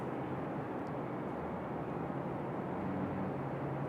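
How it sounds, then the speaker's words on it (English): A Delta airliner approaching Raleigh-Durham International Airport gives off a steady, distant jet rumble that holds evenly for a few seconds, with no voices. "So our next arrival is that Delta coming in from Atlanta."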